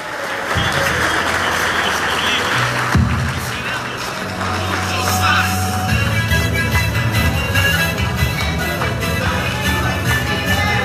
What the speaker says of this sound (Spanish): ¡Más fuerte el aplauso!